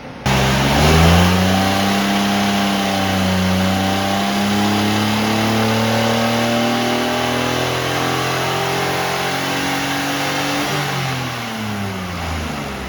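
Geo Metro XFi small engine running without its air cleaner, revving up hard through the gears with rising tones, holding, then easing off near the end, loud and close with no talking.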